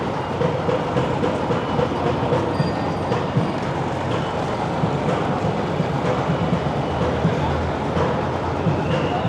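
Continuous steady rumble of a New York City subway train riding from Astoria to Times Square, loud and constant throughout, with faint voices mixed in under the noise.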